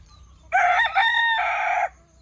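A rooster crows once on a farm with free-ranging native country chickens, a loud close drawn-out call lasting over a second, with faint low background hum before and after.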